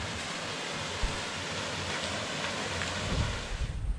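A waterfall in the bush gives off a constant broadband rushing roar, near and even, with a few slightly louder surges toward the end.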